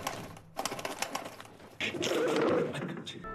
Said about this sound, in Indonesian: dia kembali tidak bisa memejamkan mata karena diganggu oleh burung dara lagi